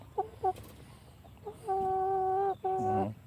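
Chickens cluck in short bursts followed by a longer, sustained rooster-like call and another drawn-out cry, fairly close in an outdoor farmyard with faint background noise.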